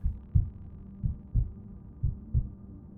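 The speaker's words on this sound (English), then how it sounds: "you will hear the same rhythm in your headphones. 7 seconds, like a heart that is still beating." Rhythmic heartbeat-like signal picked up from a military radio frequency, a muffled low thumping in paired beats repeating about once a second over a faint hum, no speech.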